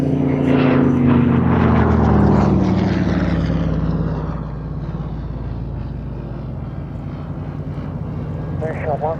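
A Yak-9 propeller fighter passes at a Duxford Battle of Britain air show, a loud engine drone with a falling pitch as it sweeps by, then fading to a lower hum under a voice.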